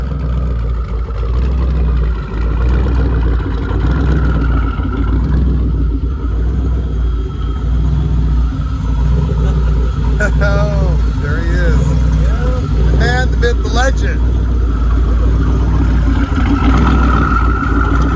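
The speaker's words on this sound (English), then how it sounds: "you hear the rumble, you know something's here making some power" A deep, steady rumble from a powerful turbocharged engine idling close by runs throughout, with someone talking over it.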